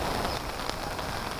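Steady rain falling on surfaces outdoors, a dense even hiss of drops with no breaks, heard alone for a brief moment.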